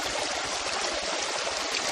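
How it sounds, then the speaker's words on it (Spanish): A mountain spring stream flows at its source, a steady, close, broadband rush and babble of water running continuously with no voices. "Y aquí hay un nacimiento de un, pongámosle un río."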